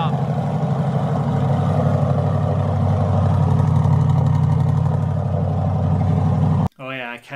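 Turbocharged car engine running loud at its first startup, a deep throbbing, steady rumble that holds for several seconds before cutting off abruptly, followed by a brief voice.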